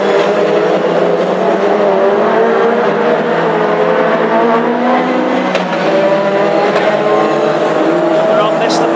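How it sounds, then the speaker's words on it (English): Classic hot rods race on a track at Northampton, engines roaring loud and continuous with passing cars and varying revs, while a race commentator talks throughout over the noise. "this racing of the Classic Hot Rods"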